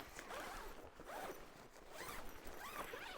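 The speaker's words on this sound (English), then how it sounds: "Let me get some of these zippers around here on this side. So I can unzip all the way." A zipper on a hammock's weather shield is pulled open in several long strokes, each a bright rasping zip repeating steadily across the clip, close and alone with no talking.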